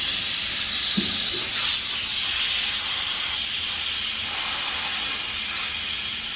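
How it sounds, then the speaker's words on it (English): Loud, continuous hiss of pressure escaping from a car air-conditioning system hose, close and steady, slowly easing slightly in strength toward the end. "we're going to release all the pressure out"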